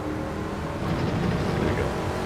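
Race car engine in Gran Turismo 7 holds a steady, dense roar that swells slightly as it accelerates in a low gear, continuous and fairly close with no talk.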